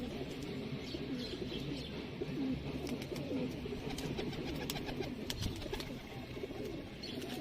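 Pigeons coo continuously in a loft, soft layered cooing from several birds with occasional wing flutters and small chirps, steady and moderately close.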